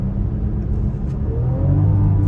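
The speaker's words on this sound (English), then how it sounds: "Try out these rev match downshifts." Engine of a 2024 BMW X6 xDrive40i rev-matching on downshifts while driving, a steady loud rumble from the cabin with the pitch climbing near the end, no voices.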